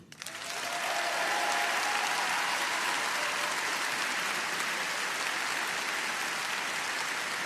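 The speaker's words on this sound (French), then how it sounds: "Je veux que nous vous applaudissions." Large crowd at a political rally in Cannes bursting into applause, a thick continuous roar of clapping that swells within the first second and holds loud and steady throughout.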